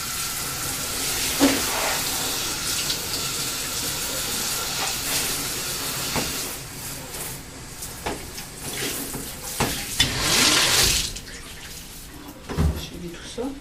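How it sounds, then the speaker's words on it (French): Tap water running steadily while a bathtub is rinsed, a continuous close hiss with splashy surges and small knocks, with a voice talking over it. "Rincer mon bain."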